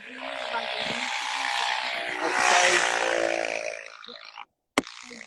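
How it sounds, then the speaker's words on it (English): Loud motorcycle roaring past outside during a tea plantation livestream in Taiwan, rising to a peak and fading over a few seconds, with a voice briefly heard underneath and a sharp click near the end. "we had a loud motorcycle"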